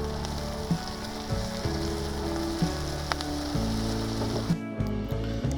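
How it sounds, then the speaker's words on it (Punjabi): Masala spices fry in a pan outdoors on a hilltop, a steady close sizzle and crackle under a low background hum, with a few soft clinks and no talk. "ਜਦ ਤੱਕ ਮਸਾਲਾ ਭੁੱਜਦਾ ਵਾ"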